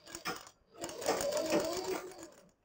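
A sewing machine runs a stitch along the waistband of a petticoat, a close mechanical whirr that starts briefly, stops, then runs steadily for over a second before stopping.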